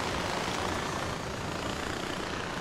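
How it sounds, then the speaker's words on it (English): Helicopter in the video game Far Cry 4 gives a steady, loud rotor and engine drone, a continuous broadband roar with no distinct pauses for a couple of seconds. "Fly up until the helicopter breaks."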